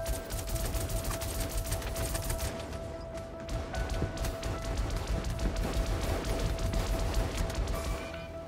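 Rapid gunfire in the first-person shooter Star Citizen's Star Marine mode, dense bursts of automatic shots and crashes crackling steadily throughout at close range.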